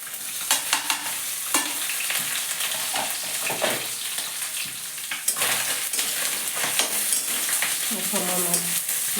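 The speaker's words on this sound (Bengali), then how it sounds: "মাছের মাথাটা ভালোই ভাজা হয়ে গেছে সব।" Fish head frying with ginger in a pan, with a steady bright sizzle and repeated scraping stirs and clinks of a utensil throughout, close and fairly loud, with no talking.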